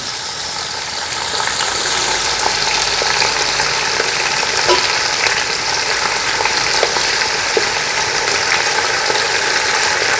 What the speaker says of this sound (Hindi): और ये बोटियाँ डाल के भून लें।